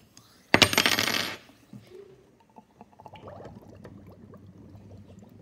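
Carbon dioxide gas bubbles through lime water in a lab test tube. A sharp glassy clink opens the sound, followed by a string of small, quiet bubbling pops.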